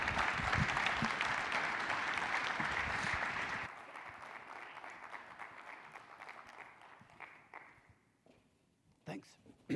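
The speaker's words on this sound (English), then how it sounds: "A round of applause." An audience at a health company launch event applauds loudly for a few seconds, then the clapping drops sharply and trails off into scattered claps and faint room noise.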